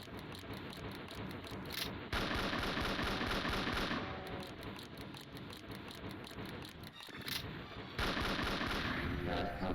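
Gunfire in the Doom mod The Golden Souls plays as rapid repeated blasts that run almost without a break, loud and close over dense game audio.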